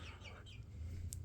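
A pet chicken clucks softly indoors in a kitchen, a faint, brief burst of low hen calls over a quiet room hum.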